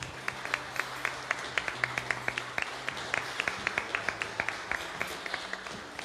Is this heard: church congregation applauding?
yes